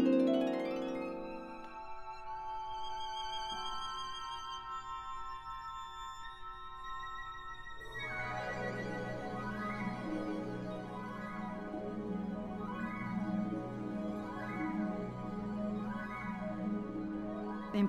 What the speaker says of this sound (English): if I wanted to play a whole tone scale, I can do that by setting my pedals.